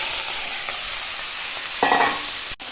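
Shrimp fry in a wok with a steady close sizzle, broken by a short burst of stirring near the end and a sharp scrape just after.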